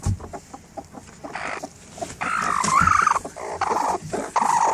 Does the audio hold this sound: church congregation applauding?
no